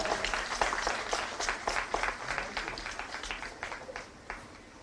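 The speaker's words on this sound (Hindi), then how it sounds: "जोरदार तालियां।" Applause at a police passing out parade, a crowd clapping in a dense, distant-sounding patter that fades gently toward the end.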